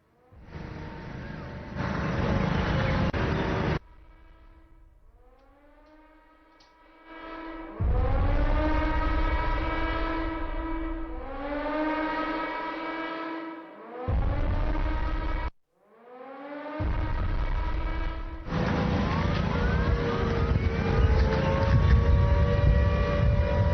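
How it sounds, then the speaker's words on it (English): Air raid sirens sound in Chandigarh during a high alert, long wailing tones rising and falling in several loud waves broken by short gaps, with a droning, slightly distant quality. "the air sirens that are being sounded there in Chandigarh"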